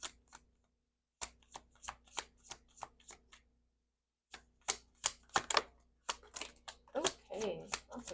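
Tarot cards are shuffled and handled in short crisp bursts of riffling and slapping, separated by brief pauses, close up and fairly quiet.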